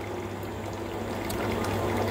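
Water running steadily through a home beer tap on a Home Bar Maxi 210 draught system during line cleaning, a continuous close gushing pour with no speech.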